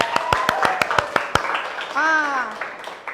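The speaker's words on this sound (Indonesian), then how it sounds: "Tepuk tangan dulu buat Farah" Classroom clapping for a student: about eight sharp, distinct claps in a quick rhythm, close and clear, then a voice and a voice briefly speak.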